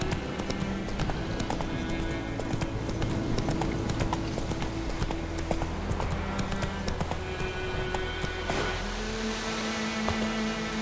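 A horse's hooves clip-clop steadily in The Witcher 3: Wild Hunt, a rhythmic trot close by over game music and ambient sounds, with no talking.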